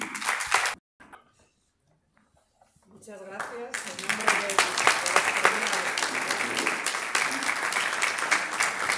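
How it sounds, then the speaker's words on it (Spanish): Loud audience applause fills a festival closing gala hall, steady dense clapping that rises after a short quiet pause and continues to the end, with a brief spoken thanks near the start. "Un fuerte aplauso"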